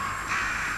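Crows cawing in a video game, a steady loud harsh chorus of many birds that swells in the middle of the moment, with no talk over it.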